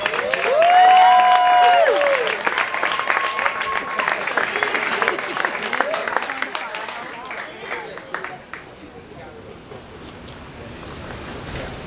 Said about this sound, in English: keeping the applause going